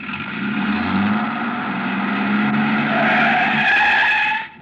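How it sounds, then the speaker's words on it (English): Truck engine turning over and tires skidding, a radio drama sound effect: a continuous loud engine roar with squealing tire skid, steady throughout and cutting off abruptly at the end. "He turned over the engine and switched on the lights before I could get clear."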